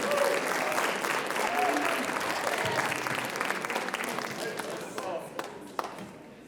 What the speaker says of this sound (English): Eddie, give him a round of applause